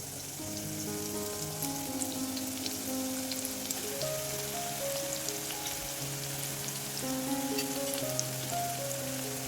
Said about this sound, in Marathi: लसूण चांगला परतून द्यायचा तेलामध्ये